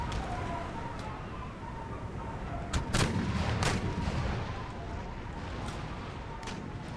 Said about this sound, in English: I think it's those mortars that are really tearing us up.